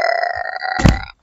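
A voice imitates a rumbling stomach during a reading of Jack and the Beanstalk, a short low gurgling growl that swells briefly at the end, close and alone.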